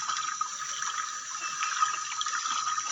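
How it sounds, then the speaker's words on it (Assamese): Floodwater from the Dihing river runs like a river through Nalani village in the Dibrugarh area, a steady, close rushing hiss with no voices. "ইমান পানী হৈ গৈছে, একদম নদী সাগৰ নিচিনা বৈ গৈছে।"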